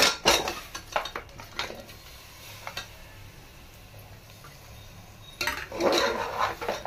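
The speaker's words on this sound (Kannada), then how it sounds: "ಈಗ ತೊಳೆದಿಟ್ಟಿರೋ ತಲೆ ಮಾಂಸವನ್ನು ಹಾಕಬೇಕಿದೆ." Washed mutton head meat goes into a cooking pot of spiced oil, with clattering metal pot and utensil knocks near the start and again near the end and quieter stretches of faint kitchen noise between.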